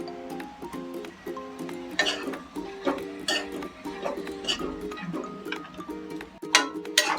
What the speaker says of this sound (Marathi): आता एकदा ढवळून घेऊया.